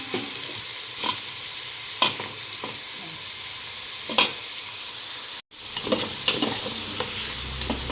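Garlic stir-fried in a hot pan with steady sizzling and scattered scraping stir strokes of a utensil, close and fairly loud, with a brief gap near the end before the sizzle resumes.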